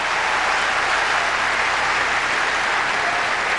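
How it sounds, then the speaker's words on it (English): Spectators at a 2004 Toronto tennis match between Roger Federer and Andy Roddick give a burst of steady, dense applause, loud and even throughout, with no talk over it. "Mirka claps her very good friend Roger Federer"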